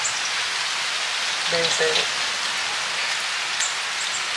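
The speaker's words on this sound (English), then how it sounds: "it's starting to rain a little bit" Rain begins falling outside in windy weather, a steady soft hiss of drops on surfaces that runs throughout, briefly overlaid by a short spoken word near the middle.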